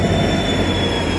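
A train rolls into a station in Dudhnoi, Assam, during Durga Puja, giving a loud, steady rumble of wheels and carriages with voices faintly mixed in.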